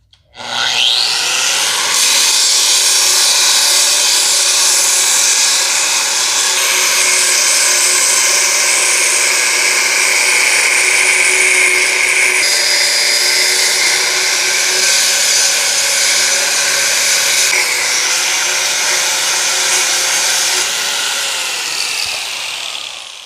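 Angle grinder fitted with a belt sander attachment grinding down a weld, one loud continuous high-pitched whine that holds steady for over twenty seconds, close and alone.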